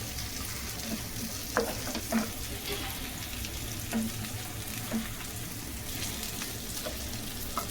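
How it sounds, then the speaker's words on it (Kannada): Mint leaves fry with mutton in a pan for mutton ghee fry, giving a soft continuous sizzle with occasional light spoon taps and clinks from stirring, quiet and close with no speech. "ಇವಾಗ ಪುದೀನ ಸ್ವಲ್ಪ ಫ್ರೈ ಆಯ್ತಲ್ಲ"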